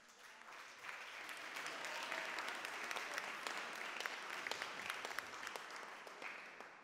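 Audience applause at the Latvian events forum excellence awards ceremony in 2024, a steady wash of many hands clapping from a mid-sized crowd, sustained for several seconds at a moderate level with no voices over it.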